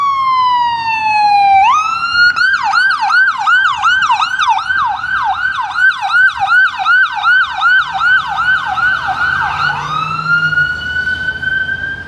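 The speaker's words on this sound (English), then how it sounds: "all of a sudden I heard a loud siren from the ambulance" A loud ambulance siren wails steadily, then switches to a rapid yelp for several seconds before sliding back to a long wail, close by with low traffic rumble beneath, on a Toronto street.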